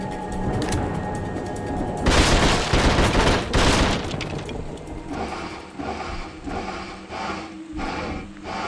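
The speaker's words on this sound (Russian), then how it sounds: "Аннигиляторная пушка." An annihilator cannon in The Suffering fires in two loud, heavy blasts close together. Rumbling mechanical game noise runs before and after the blasts.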